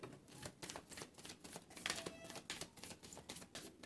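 A deck of cards being shuffled at a tarot-style reading table, giving a close, crisp run of rapid riffling flutters in repeated bursts, with no one talking.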